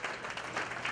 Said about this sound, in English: ask them to stand to get a warm applause